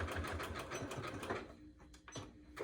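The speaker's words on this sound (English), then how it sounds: "I'll do my zigzag stitch." A sewing machine runs a zigzag stitch along a fabric seam, a close, steady rapid mechanical chatter for the first second and a half, then slowing and stopping with a few faint clicks.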